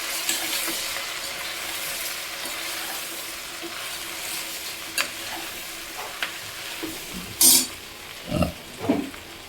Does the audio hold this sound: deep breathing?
no